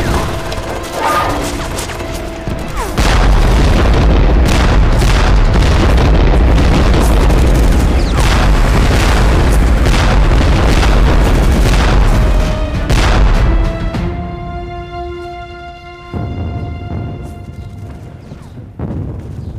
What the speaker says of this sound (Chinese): 尝尝被炮轰的滋味